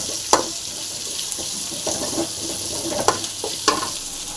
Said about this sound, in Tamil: வெங்காயம் போட்டுடலாம் வெங்காயம் நல்லா ஃப்ரை ஆகட்டும்